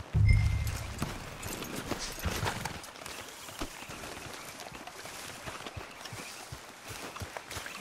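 Horse hooves clop in Red Dead Redemption 2 during a quiet approach on horseback, fairly soft and steady beneath ambient game sound, with a louder rumble at the start.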